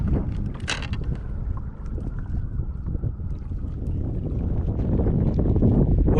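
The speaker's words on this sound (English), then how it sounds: "the wind has picked up a bit" Wind gusts over a small fishing boat on open water, a steady broadband rush that swells slightly louder toward the end, with water noise underneath and no talking.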